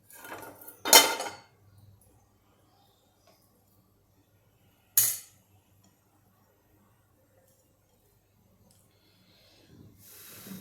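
Two sharp metallic clinks, about four seconds apart, as a jowar-flour thalipeeth is set onto a metal plate in a home kitchen, with near silence between them.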